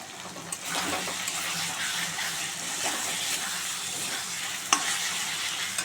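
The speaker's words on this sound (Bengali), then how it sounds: "ভালো করে মশলাটা আমি কষিয়ে নেব।" Tomato, salt, turmeric and Kashmiri chili powder fry together in a pan. A steady, hissing sizzle runs throughout under soft stirring, with one sharp utensil clink near the end.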